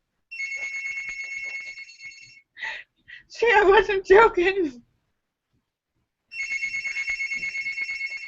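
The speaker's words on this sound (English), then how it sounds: "It's the phone." A telephone rings with an electronic trilling tone in two bursts, one at the start and another near the end, loud and close, with someone speaking in the quiet gap between them.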